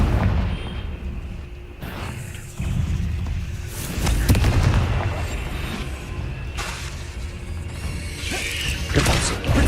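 A fiery Confringo spell blast in the Hogwarts Legacy game, loud booming bursts with shattering debris and crackle, several impacts rolling over a dense mechanical rumble.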